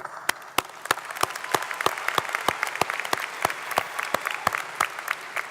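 Applause at a university commencement ceremony honouring the graduates: a broad, steady crowd clapping throughout, with several louder individual claps standing out near the front.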